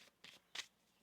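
Tarot cards being shuffled by hand in two quick riffling bursts, the second louder and crisper, with a faint ruffle at the start and quiet in between.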